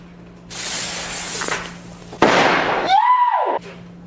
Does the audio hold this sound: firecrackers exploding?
yes